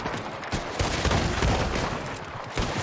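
Gunfire from a newly acquired gun in Red Dead Redemption 2 Online, dense repeated shots forming a loud, continuous barrage with no talking.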